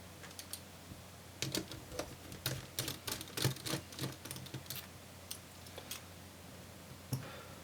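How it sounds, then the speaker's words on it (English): Screws come out of a Dell Inspiron 16 laptop hinge, a faint, quiet series of small irregular clicks and ticks from a screwdriver working close by, clustered in the middle with short pauses. "So we are going to remove the 3 screws that hold the hinge in position."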